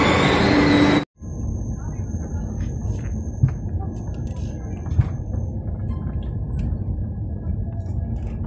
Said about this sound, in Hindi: उधर को जा रही है हमारी ट्रेन आई थी